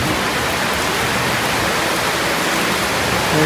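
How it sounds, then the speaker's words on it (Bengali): Heavy rain pours down in a steady, loud, dense hiss that holds unbroken from start to finish, with no voices over it. "মুষলধারে বৃষ্টি নেমেছে"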